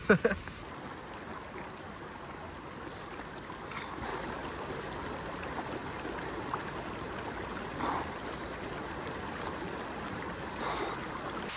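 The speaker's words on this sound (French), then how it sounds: "Mais c'est quand même une très belle cascade." Waterfall in the Cirque de Gavarnie in the Pyrenees, a steady broad rush of falling water that stays even throughout, with a few brief louder surges near the start and middle.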